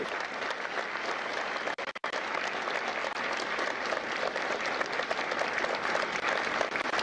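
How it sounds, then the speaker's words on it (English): A Marine Corps recruit graduation audience at MCRD San Diego applauds loudly and steadily, dense clapping from many hands that holds for several seconds with a brief dip partway through. "a round of applause for their dedicated service to Corps and country"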